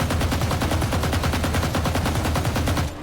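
Rapid automatic Vandal rifle fire from Valorant, a steady unbroken burst of loud close shots for about three seconds that cuts off abruptly at the end.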